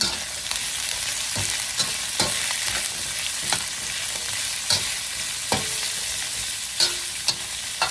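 Cabbage and peppercorns stir-frying in a pan, a steady hiss of sizzling broken by regular scraping and knocking strokes of the utensil, close and moderately loud, with no one talking.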